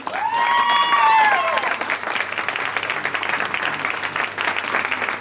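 Student audience at a university talent contest applauds the performers again, a broad, steady roar of many hands clapping close and loud, with a brief whoop or whistle rising early on and the clapping carrying on evenly to the end.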